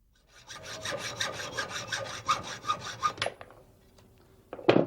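Metal legs for a wine rack being trimmed to length with a saw, a steady run of about a dozen rhythmic rasping strokes, then a few scraping clicks and a final sharp clatter, close and alone.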